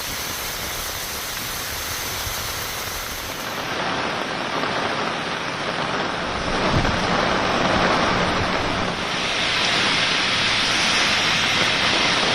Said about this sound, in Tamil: பலத்த காற்றுடன் கனமழை பொழிந்தது